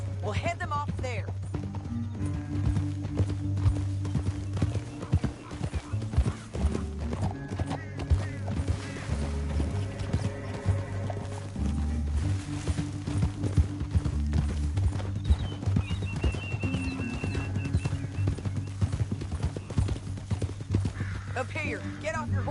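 Horses in a video game trot and gallop through a canyon with steady, close clip-clopping hooves, while voices talk over the top and music plays beneath.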